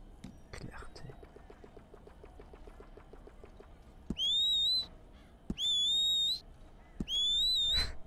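A player in Red Dead Redemption 2 Online voice chat whistles three shrill rising-and-falling notes, loud and piercing, over faint speech and soft game background.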